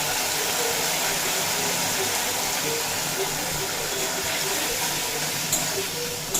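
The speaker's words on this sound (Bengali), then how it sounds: "যাতে মশলাটা না পুড়ে যায় তার জন্য দিয়ে দেবো একটুখানি জল" Water splashes into frying spice masala of cumin and coriander powder, setting off a loud, steady sizzling hiss that carries on throughout.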